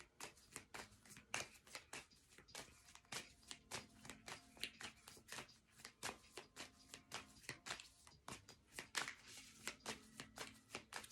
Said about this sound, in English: I shuffle, shuffle, shuffle.